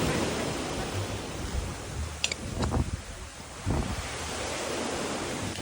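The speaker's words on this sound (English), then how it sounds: "How good are you at predicting the size of the waves?" Ocean waves break and wash onto a beach in Thailand, a continuous roaring surf with swelling crashes and no voices.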